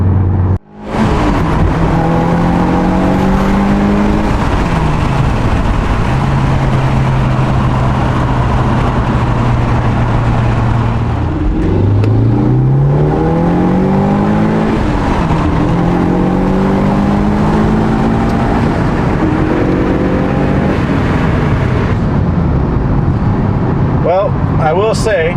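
Turbocharged engine of a Mitsubishi Evo IX wagon revving loudly from low RPM toward a 7,000 RPM redline, with repeated rising pulls and gear changes, heard from inside the car while a person talks over it.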